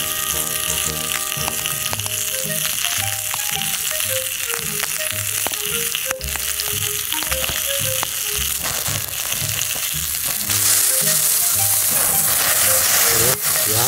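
Pork belly seasoned with salt and pepper sizzling over a campfire grill: continuous loud crackling and hissing, with game-style music tones underneath and the sizzle growing brighter near the end.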